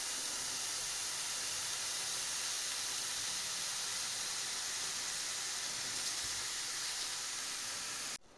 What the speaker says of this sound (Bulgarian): добавяме ориза